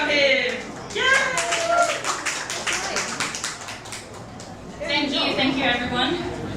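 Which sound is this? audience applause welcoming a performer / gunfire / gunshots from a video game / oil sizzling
audience applause welcoming a performer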